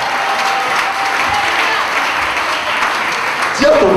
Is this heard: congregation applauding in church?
yes